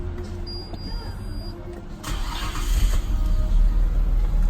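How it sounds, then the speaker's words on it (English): Nissan Skyline GT-R R34 with low original mileage starting up: a quiet cabin hum, then at about two seconds a louder broadband rumble of the engine catching and settling into a steady low idle. "So let's start the engine."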